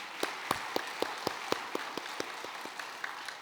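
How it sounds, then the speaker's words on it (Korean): A church congregation at a Korean worship service gives encouraging applause; scattered, fairly faint claps land in a loose, slowing rhythm and thin out toward the end. "우리 완필하신 분들도 우리 박수로 격려하도록 하겠습니다."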